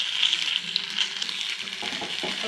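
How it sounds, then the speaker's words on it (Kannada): Spices, curry leaves and onion sizzling in hot oil for an oggarane tempering for hesaru bele sambar, a steady close frying hiss with small crackles and pops throughout, with no talk. "ಸ್ವಲ್ಪ ಫ್ರೈ ಆಗಲಿ."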